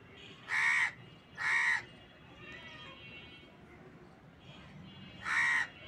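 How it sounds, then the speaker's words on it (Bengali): A crow caws three times outdoors, with two loud harsh calls close together and a third after a pause, over a steady background hiss. "ওই দেখো কাক এসে কি করতেছে, দেখেছো?"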